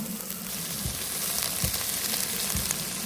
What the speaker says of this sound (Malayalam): സബോള ചേർക്കുവാണ് കേട്ടോ ഞാൻ നമ്മുടെ ഒനിയൻ ദേ കുറച്ചൊന്ന് വാടി വന്നിട്ടുണ്ട് ഇനി ഈ സമയത്ത് നമ്മുടെ തക്കാളി ചേർത്ത് കൊടുക്കാം